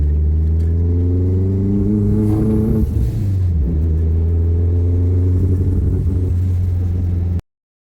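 A Mazdaspeed 3 with a fuel delivery problem accelerates on a test drive, its engine droning loud and close. The pitch climbs, then shifts as it changes gear partway through, before the sound cuts off abruptly.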